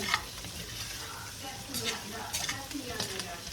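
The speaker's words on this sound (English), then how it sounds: "Let's give them a good stir." Potatoes and onions stirred in a greasy frying pan, a steady close sizzle with a few brief scraping stirs.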